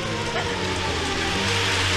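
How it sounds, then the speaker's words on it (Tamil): Steady rain falls on a street scene near a police station, a dense continuous patter that stays even and fairly loud for the whole stretch, with a faint hum underneath and no voices. "மழையில நனையாதுமா"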